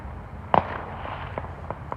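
Fireworks burst at a distance outdoors, one sharp crack followed by a few fainter pops scattered over two seconds, with no talking.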